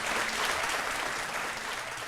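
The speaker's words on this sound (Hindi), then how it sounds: "सिया के लिए ताली बजा दो" A studio audience applauds for a young performer named Siya, a dense, steady roll of many hands clapping, moderately loud and even throughout, with no talking.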